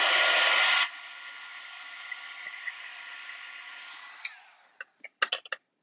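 A heat embossing tool melts embossing powder during a paper-crafting session, beginning as a loud blowing rush that drops to a quieter steady hum, then cuts out into a few sharp clicks and taps.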